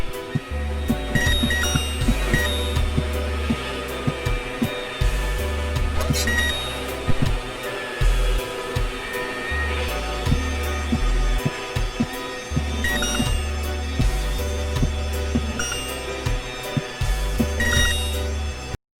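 Fire alarm ringing continuously and loud for the whole span, a steady metallic bell-like clang over low rhythmic music, with no talk.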